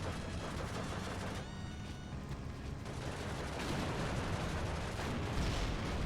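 T-34 tank firing during a battle in the video game Steel Division II, with repeated distant booms and gunfire rumbling under a dense, continuous wash of battle noise.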